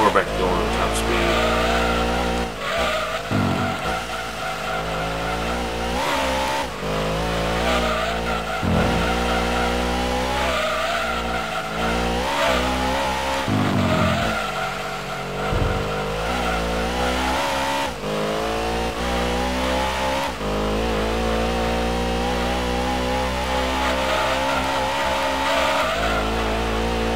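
A Gran Turismo 2 race car drones at top speed, its engine whine holding steady with shifting pitch and brief dips, while a voice talks over it.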